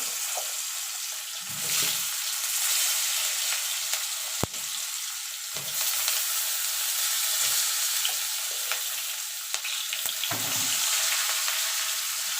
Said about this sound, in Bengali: এই তেলে আমি আলু বেগুনগুলো ভেজে নেব।